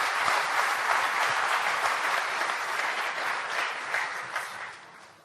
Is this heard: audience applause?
yes